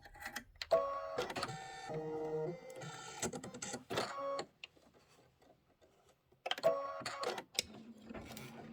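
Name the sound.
embroidery machine stitching tombstone outline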